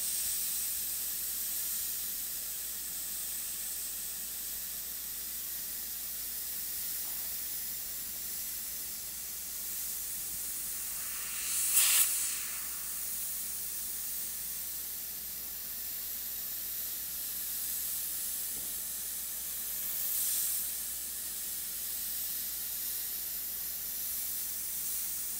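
An airbrush spraying paint for a lightning-effect artwork gives a faint, steady airy hiss throughout, with a brief louder burst midway and another soft puff later, and no voices.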